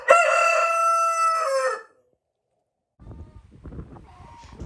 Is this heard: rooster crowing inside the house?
yes